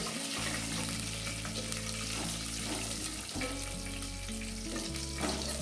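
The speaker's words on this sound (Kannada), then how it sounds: "ಇದನ್ನು ಒಂದು ಸ್ವಲ್ಪ ಎಣ್ಣೆಯಲ್ಲಿ ಹುರ್ಕೋತಾ ಇದ್ದೀನಿ." Green chillies fry in a little oil in a pan for a beetroot stir-fry, producing a continuous close sizzle over a steady low hum, with a faint clink partway through and no speech.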